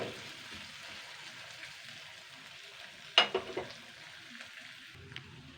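Spices frying gently in a pan over a low flame give a soft, continuous sizzle, broken by a sudden clatter of stirring near the middle and a few lighter knocks after.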